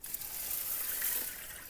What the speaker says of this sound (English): Then you want to add your water.